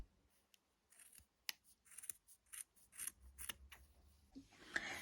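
Scissors trim the yarn edges of a crocheted bookmark tassel with a series of soft, close snips in an irregular rhythm, then a brief rustle of the yarn at the end.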